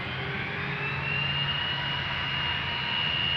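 A nine-year-old KLM Airbus A330-300, registration PH-AKF, at Amsterdam Schiphol Airport gives a continuous jet-engine roar with a thin high whine running through it, steady and unbroken, with no voices.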